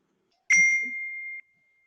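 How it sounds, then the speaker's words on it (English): A single bell strikes once with a sharp onset and a clear ringing tone that fades over about a second, heard alone in a quiet room during a business talk. "Oh, I hear a bell."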